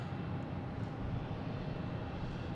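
Lufthansa airliner near runway 22 Left at Boston Logan, a steady distant jet engine roar rumbling continuously under broad background noise.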